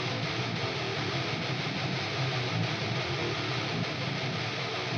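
Electric guitars recorded through a Randall amp and cab with G12 speakers form a dense, distorted wall of sound, played steadily at moderate volume with no talking.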